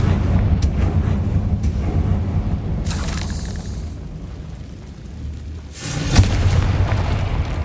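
Confringo fire spells bursting in the Hogwarts Legacy video game, heavy rumbling booms with sharp blasts, one near the start and a louder one toward the end, over a continuous low roar of battle.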